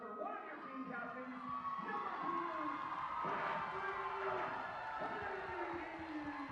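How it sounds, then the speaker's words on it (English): A crowd at a women's high school basketball game, Herriman versus West Jordan, applauds and cheers a team captain, sustained clapping and murmur heard from a distance, fairly faint and even throughout. "how about a round of applause for one of your team captains"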